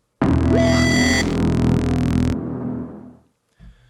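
A low, dry synth tone with no reverb or delay swells in abruptly, holds for about two seconds, then cuts off into a short decaying tail.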